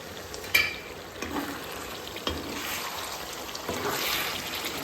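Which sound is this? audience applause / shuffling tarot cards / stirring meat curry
stirring meat curry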